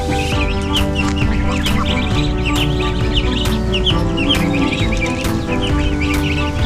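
Roosters cluck steadily and close by over a dense, continuous barnyard din, with chirping birds, ducks and other fowl calling throughout.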